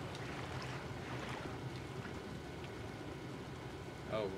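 Ambient water in the Secrets of the Maw video game forms a steady, rushing wash of waves and wind, continuous and fairly loud, with no talk.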